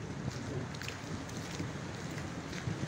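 Strong wind during a tornado in Timbó, Santa Catarina: a continuous, heavy roar of wind buffeting the microphone, steady and loud throughout with no clear talk.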